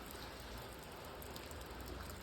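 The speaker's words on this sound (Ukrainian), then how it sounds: "Дощ лє" Steady rain falls in a garden with flowering shrubs, apple tree and daffodils, a continuous dense hiss of drops with no pauses, close and even throughout, and no talking.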